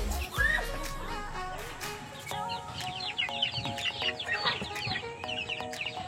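Chickens clucking and calling at a farmyard, birds suffering from a cold, with repeated short clucks and higher squawks overlapping steadily at moderate distance, no talking.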